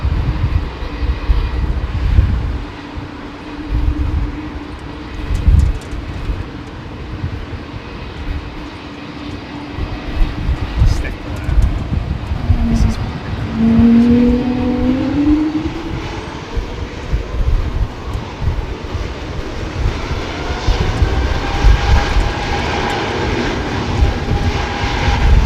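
A Qatar airliner's jet engines roar at maximum takeoff thrust on departure from Heathrow on a windy day, a loud, steady, sustained rumble heard from the cabin with a rising whine.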